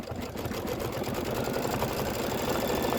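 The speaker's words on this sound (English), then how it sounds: "This is going to be 2 minutes of stitching." An embroidery machine stitching a Kimberbell boot buckle design hums with a steady, rapid mechanical chatter that runs continuously and evenly at close range, with no voices over it.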